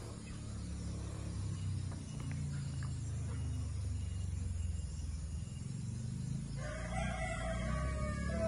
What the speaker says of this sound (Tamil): இப்போ அந்த கீரி சேவல் கூவும் கொஞ்சம் நேரத்தில் பாருங்க